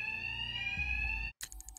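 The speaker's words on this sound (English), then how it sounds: "Just like the others, these thugs can't hear a thing over the alarms." Alarm in the video game Batman: Arkham Knight, a loud steady electronic tone held for over a second, then cut off and followed by a pulsing, stuttering burst.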